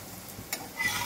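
A lachha paratha for an egg roll fries in plenty of oil, with a brief, soft sizzle, a sharp stirring scrape midway and a slight swell of frying noise at the close.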